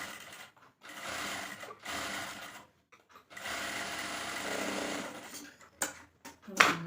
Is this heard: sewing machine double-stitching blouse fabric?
yes